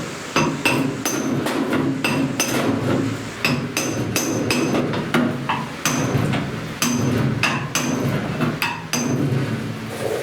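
A hammer drives a truck door's seal flange over, striking metal again and again in quick, irregular bursts of sharp, ringing taps that come close and loud, with no talking.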